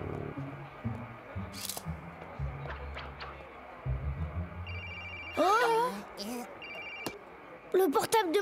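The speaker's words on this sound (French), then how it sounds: "Le portable de Madame Vinaigre!" Cartoon mobile phone rings in short repeated electronic bursts inside a museum scene, interleaved with a character's animated speech and faint background music.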